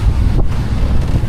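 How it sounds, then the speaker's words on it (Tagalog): Strong wind buffets the microphone at sea aboard a small boat on a Pacific crossing, a loud steady rushing roar with low gusty thumps and no voices. "Hangin ngayon ay ganun pa rin."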